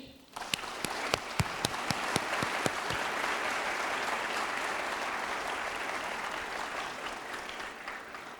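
An audience at the Schwarzman Scholars opening ceremony at Tsinghua University breaks into loud, sustained applause, starting with a few distinct claps and swelling into a dense, steady roar of clapping that continues to the end.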